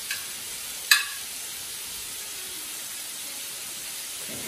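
Soft, steady sizzling hiss of food frying in a pan, with a brief scrape or tap near the start.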